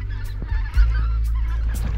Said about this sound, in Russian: Гуси летят на юг.